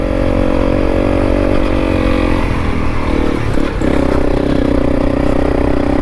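Honda CRF300L motorcycle riding over big rocks on a dusty trail, its engine droning loud and steady throughout with clattering and scraping from the rough ground and a brief jolt near the middle.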